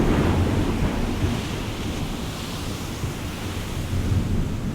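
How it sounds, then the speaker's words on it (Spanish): Stormy sea waves crashing and rolling in a loud, dense roar with deep rumbling surges and blustery wind, continuous and without voices. "Las olas se hicieron mucho más grandes"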